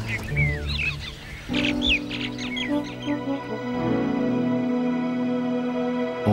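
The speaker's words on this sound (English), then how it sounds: "This youngster makes a game of it with some noisy minor birds." Noisy myna birds chased by a young elephant give a string of sharp chirps and squawks, then sustained tonal music swells beneath them.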